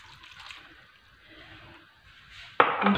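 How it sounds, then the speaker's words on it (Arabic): Cup of water poured into a cooking pot of chicken stock powder for a cabbage and cheese gratin, a sudden splashing gush arriving near the end after a quiet kitchen stretch. "وهنايا نحطوا فنجان ماء"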